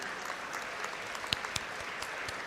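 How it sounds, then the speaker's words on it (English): Applause for graduating students at a university convocation, a steady wash of many hands clapping throughout, with a few sharper individual claps standing out. "Big round of applause to all the students."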